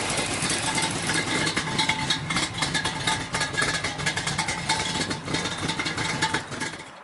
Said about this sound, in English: One engine in a truck, and it runs.